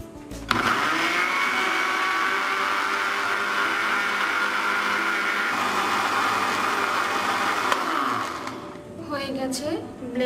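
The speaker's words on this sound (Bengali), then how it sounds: "এবারে আমি একেবারে মিহি করে ব্লেন্ড করে নেব।" A countertop blender whirs steadily for about eight seconds, finely puréeing young cucumber with a little water, then spins down and stops, leaving a quieter tail with a voice speaking.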